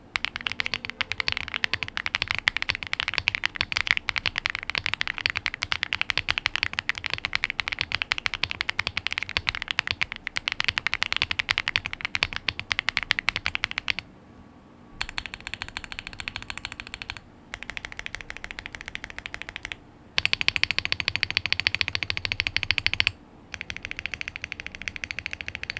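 Typing on a Lucky65 v2 keyboard fitted with Akko mirror switches: dense, continuous rattling keystrokes, close and fairly loud, broken by brief pauses and bursts of faster clacking.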